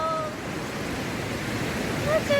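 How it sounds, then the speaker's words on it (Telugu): Sea waves at Suryalanka beach produce a continuous, loud wash of surf noise that swells slightly toward the end, with a brief faint tonal sound near the close. "సౌండ్ అయితే వినబడేది ఫ్రెండ్స్ వాటర్ సౌండ్"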